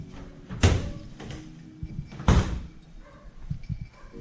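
A big double-door refrigerator in a dormitory kitchen bangs shut twice in sharp thuds, with lighter knocks and rattles between them, close and otherwise quiet.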